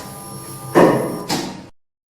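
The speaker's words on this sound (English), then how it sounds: "Doors closing." A Mono goods lift's sliding doors roll shut in two quick stages, a loud scraping rush followed by a second shorter slide, then the sound cuts to silence over a faint steady hum.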